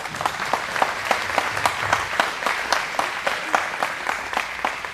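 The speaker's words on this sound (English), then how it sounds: "let's give the Hetheringtons a round of applause for that" An audience at a livestock auction gives a round of applause, steady clapping from many hands at a moderate distance that lasts several seconds.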